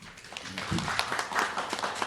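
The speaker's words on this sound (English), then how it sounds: "Give my board members a round of applause." An audience at an education summit press conference applauds board members, a steady wash of many hands clapping at moderate volume, slightly distant in a room.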